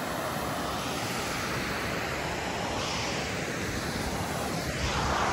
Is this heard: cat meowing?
no